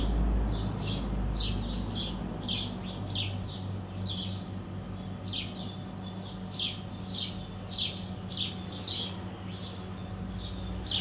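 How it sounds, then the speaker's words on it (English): Birds chirp repeatedly outdoors after a surf session, with quick bright tweets in irregular bursts over a low steady background hum and rumble. "If you can hear the sound of the birds here, just try to enjoy that"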